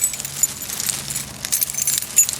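A bunch of keys jangles close by while the door of an '84 Chevy truck is locked, a bright rattling chatter in bursts with a few metallic clinks, no talking.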